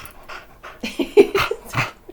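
A dog pants right against the microphone, giving a few quick, close breathy puffs with a soft whimper-like tone, heard alone without talk.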